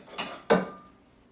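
Two quick metallic clanks as a frying pan with a Teflon coating is pulled from a stack of pots, the second knock louder and ringing briefly before fading.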